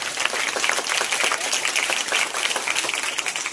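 Audience at a school admission festival claps continuously, a dense, steady patter of many hands filling the space with no pauses.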